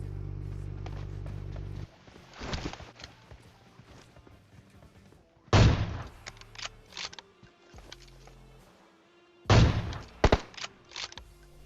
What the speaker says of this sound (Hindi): ब्रिज पे आता हूँ और गोलियां चल रही होती हैं